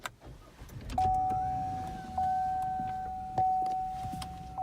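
A 2017 Cadillac XTS started with the push button: a sustained electronic tone and soft chime sound while the engine comes to life, with repeated mechanical clicks and a low, steady idle rumble underneath, heard from inside the car.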